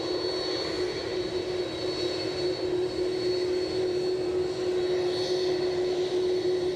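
A Delta airliner at Edinburgh airport gives a steady, moderate jet engine drone with a constant whining tone, heard alone without any talking.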